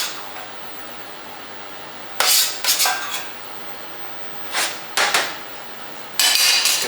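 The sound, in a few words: mashing butternut squash into a puree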